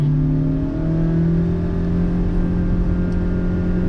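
A Honda BR-V's 1.5-litre engine with CVT automatic hums loudly and steadily, its pitch rising slowly as the vehicle accelerates from a standstill.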